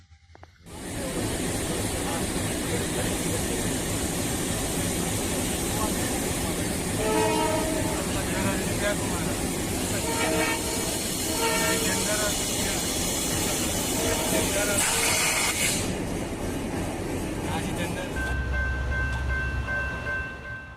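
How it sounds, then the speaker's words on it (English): A train careens off its rails in the Mexican countryside, a loud continuous rumble and metallic grinding of cars with a horn-like tone near the end, heard close and steady, with people's voices mixed in. "se salió el tren"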